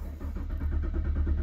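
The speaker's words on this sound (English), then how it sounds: "I'm gonna crank that thing up. Cold start." A car engine cranks and fires on a cold start, a steady low rumble filling the short stretch and building slightly toward the end, heard close with no talk over it.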